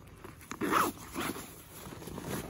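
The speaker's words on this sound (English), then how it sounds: "Now the bottom here zips out too, so you can drop the bottom out completely" A zipper runs along the bottom compartment of a Bushbuck Destroyer backpack, with a few quiet, close, scratchy pulls as the base is unzipped and dropped out.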